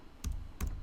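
A few keystrokes on a computer keyboard, three quick soft clicks in under a second, close and quiet.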